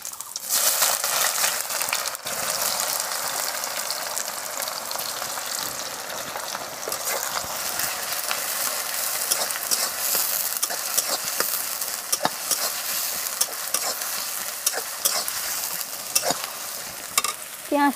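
Chopped onions fry with a steady, close sizzle in a pan for a curry, with intermittent scraping and stirring strokes from a utensil running throughout; no talking.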